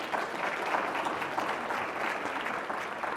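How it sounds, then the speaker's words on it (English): Audience applause fills the room after a panel on local businesses taking action at the Sustain Dane Summit 2025, a steady, dense clapping that holds at an even level throughout with no talk over it. "we got to keep up the applause"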